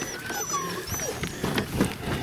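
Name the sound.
sled dog, father of a pup, in Greenland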